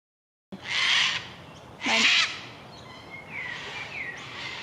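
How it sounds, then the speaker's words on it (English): Two loud, harsh cockatoo screeches tear out close by, one after another, followed by fainter squawks and calls trailing off in the background. "Cockatoos, am I right?"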